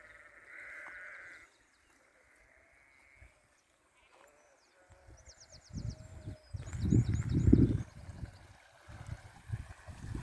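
Several sheep at a wildlife sanctuary near Campbeltown bleat back and forth, a high bleat at the start and a louder cluster of overlapping bleats later, with outdoor background noise and no talk.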